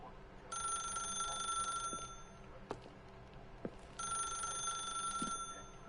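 A telephone rings in The Stanley Parable video game, two bright bursts of ringing separated by a pause, with faint clicks and game ambience between them.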